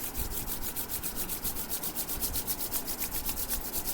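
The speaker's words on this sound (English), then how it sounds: "Everyone, rub your hands." Palms rub briskly back and forth in a steady fast rhythm, a close, even, dry swishing with no one speaking.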